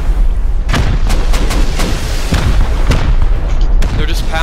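Turrets fire during a raid in a video game, delivering a rapid series of loud, sharp booming shots over a dense, noisy background.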